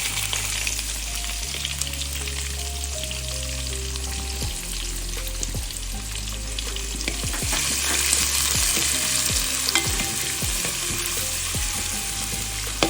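Onion and capsicum fry in a pan with a loud, continuous sizzle, broken by repeated stirring scrapes and taps that grow busier in the second half.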